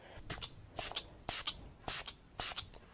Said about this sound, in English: So we've got the Catrice Prime and Fine Multitalent Fixing Spray. This is a really amazing setting spray.